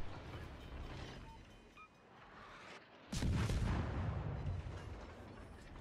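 Incoming naval shells in the warship game World of Warships Legends: a low rumbling backdrop that breaks into a sudden heavy whooshing roar and sustained thunder of impacts, fairly quiet overall, with no speech.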